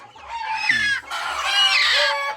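Farm chickens clucking and calling loudly up close, two bursts of excited, rising cackles with almost no talk over them.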